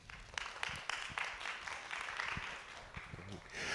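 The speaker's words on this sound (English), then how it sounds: "give yourselves a round of applause for being here" An audience at a talk on art and medical observation claps, a loose patter of applause in a room that carries on steadily, with some faint voices mixed in.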